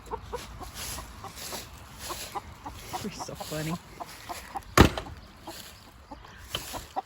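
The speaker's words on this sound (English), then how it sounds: "They're chickens." Chickens cluck and murmur softly in the background on a farm, with a short sharp knock midway, while a person speaks briefly nearby.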